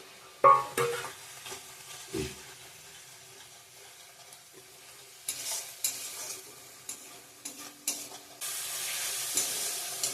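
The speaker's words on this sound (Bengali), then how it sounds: "ভালো করে কষিয়ে নিয়েছি মশলাটা" Masala with green chillies fries in a pan for a banana flower and prawn curry, with stirring scrapes and bursts of sizzle, a few knocks, and louder hissing toward the end.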